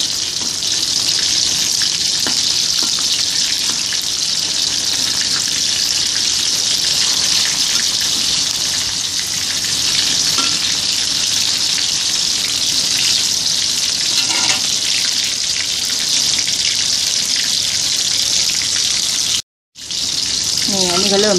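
Yisok fish deep-frying until crispy, a loud, steady sizzle and bubbling of hot oil that runs continuously, close up, with a brief cut near the end.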